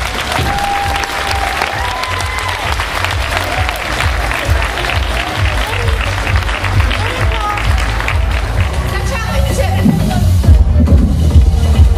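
A crowd at an aerobics competition in Frýdek-Místek gives loud, sustained applause and cheering for placed competitors, continuous and close, with voices and a whistle mixed in throughout.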